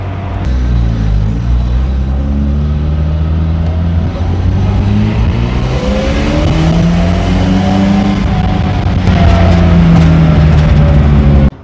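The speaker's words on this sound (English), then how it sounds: "I do like loading up the engine and letting those RX7 pops come out of the exhaust." A Mazda RX-7 rotary engine revs hard and steadily, its loud rising and falling drone filling the clip, with a sharp burst of exhaust pops and crackle near the end.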